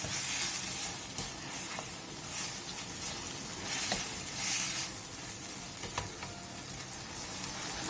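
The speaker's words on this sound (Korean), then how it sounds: "팬에 기름을 두른 뒤 재워놓은 고기를 넣고 센 불에서 볶아주세요." Marinated meat stir-frying over high heat in an oiled pan, a steady close sizzle with scattered crackles and occasional clinks, no voices.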